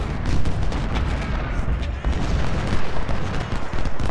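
Cannon and artillery fire from the Ultimate General: Civil War battle game roll on as a dense, continuous barrage of booms and crackling shots, loud and steady throughout.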